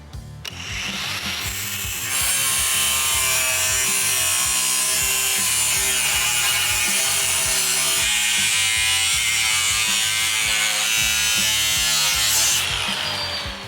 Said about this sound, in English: Now we'll just go ahead and cut this out with the cutoff wheel.